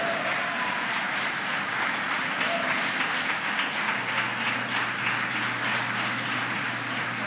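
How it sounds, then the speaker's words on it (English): A crowd of spectators applauds and cheers after the SpaceX Falcon rocket launch of the Arabsat-6A satellite, a sustained wash of clapping and cheering at moderate distance with a low steady hum underneath. "As you can tell behind me, the folks who watched the mission cheering"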